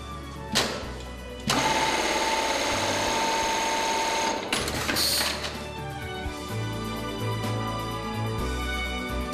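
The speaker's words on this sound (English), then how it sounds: "The sewing is much quieter than the conventional model due to improvements in the mechanisms that cause noise." A Brother RH-9820 buttonhole sewing machine runs close and steady, a fast mechanical whir with a clunk at the start and a shift in pitch partway through as the stitching cycle changes.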